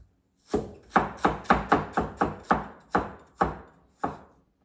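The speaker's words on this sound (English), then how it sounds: "now I'm going to chop the gingers" A knife chops ginger into small pieces on a cutting board, giving about ten crisp, evenly spaced thuds that slow slightly toward the end, close and clear with no talking.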